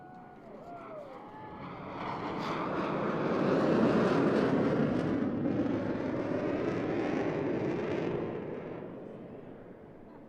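Aerobatic airplanes flying past at a Pensacola Beach airshow, a broad engine roar that swells to a loud peak mid-pass and fades slowly, with faint distant voices underneath.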